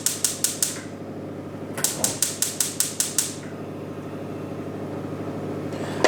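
A gas cooker being lit for cooking vegetables: two bursts of rapid clicking from the igniter, about five sharp ticks each, followed by a steady low burner hiss.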